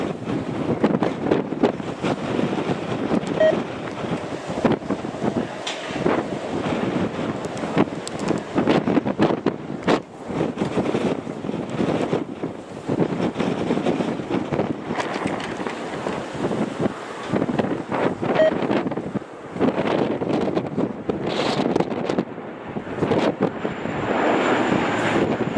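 Strong gusting wind buffets the microphone during an airliner's landing approach, a loud continuous roar with surging bursts and a steady jet engine drone underneath, no voices.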